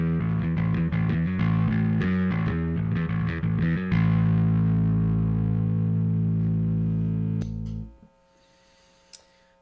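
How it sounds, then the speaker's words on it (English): A bass guitar played through a distortion pedal, with a choppy rhythmic riff of gritty distorted notes that gives way to one long sustained note, which rings out and then cuts off into near silence. "And here is the distortion signal."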